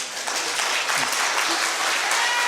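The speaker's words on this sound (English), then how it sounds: "Please withhold your applause until the end of the forum." Audience at a Montana Senate political debate in Hamilton breaks into loud, continuous applause, a dense wall of clapping with some cheering voices mixed in.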